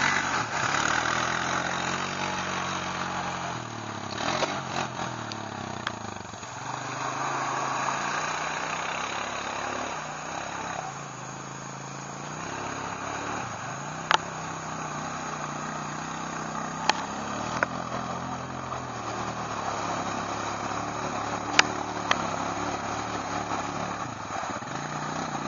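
A Honda Rancher ATV engine rumbles and revs at mid pitch during a wheelie in water, rising and falling with a few sharp clicks and knocks, fairly close.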